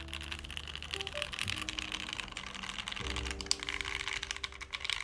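Typing on a rare mechanical keyboard fitted with GMK Modern Dolch 2 keycaps, rapid close clacking keystrokes in a steady stream while soft music plays underneath.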